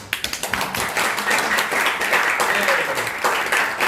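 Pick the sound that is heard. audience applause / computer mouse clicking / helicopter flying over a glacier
audience applause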